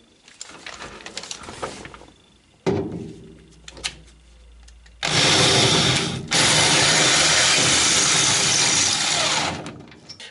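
Power drill boring through the steel body panel of a Citroën Traction 11B, loud and close, with short bursts first and then a sustained high-pitched whine for several seconds before stopping.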